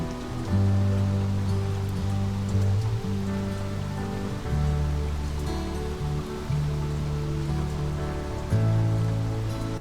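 Steady rain falls at Dunnet Head lighthouse on the Scottish coast, a dense continuous patter close by, layered over a low droning engine hum that rises and dips in long swells.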